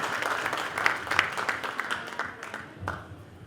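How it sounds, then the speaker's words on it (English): An audience at a Hindu Society of Minnesota event claps steadily, a dense, moderately loud patter of many hands that fades slightly toward the end. "A big round of applause for all the supporters of Hindu Society of Minnesota."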